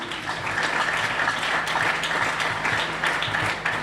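Church congregation applauding at a Christian gathering, a dense, steady wash of clapping from many hands that holds evenly for a few seconds without pause.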